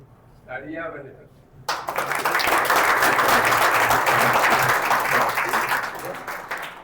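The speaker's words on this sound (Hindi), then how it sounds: "मैं खुश नहीं हुआ कि आपने तालियां बजाई।" Audience at a public school event in Hub, Balochistan breaking into loud, sustained applause after a brief spoken line, the dense clapping holding steady to the end.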